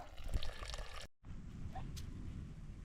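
Water bottles being filled from a steady spring flow along the Appalachian Trail, a continuous close pouring and trickling wash with a brief cut partway through, then the steady flow resumes.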